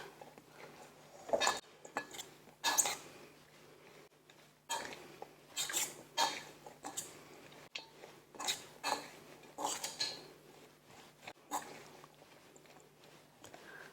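Food with chopped spring onions being stirred and mixed in a pan, a quiet run of scattered utensil scrapes and clinks against the metal at an irregular pace, close by, with no talk.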